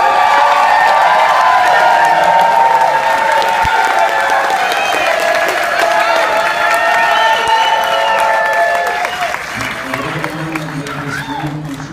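Wedding guests at a reception applauding and cheering for a speech, a loud room full of clapping with whoops and shouts over it, easing off toward the end as voices begin to take over.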